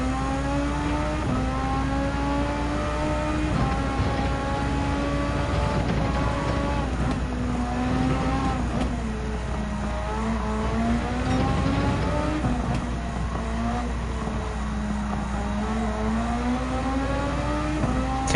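A car engine in the Gran Turismo 7 video game holds high revs on the Deep Forest Raceway start line, a loud steady whine that rises and dips in repeated waves, running continuously with no talk.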